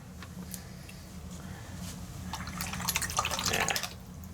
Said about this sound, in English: we need to get some water here